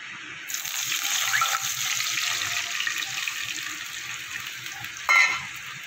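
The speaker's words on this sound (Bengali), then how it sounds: "এবার দিয়ে দেবো দুধটা" Milk goes into a hot pan for suji gulab jamun, making a steady hissing sizzle and watery pour that flares into a sharper, louder burst near the end. The sound is close, with no talking.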